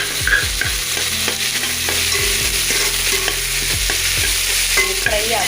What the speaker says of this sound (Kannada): ನೋಡಿ ಈರುಳ್ಳಿ ಫ್ರೈ ಆಗಿದೆ, ಸಾಫ್ಟ್ ಆಗಿದೆ.